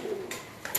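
A pigeon coos softly nearby in a brief low murmur, while faint background noise rises and falls around it.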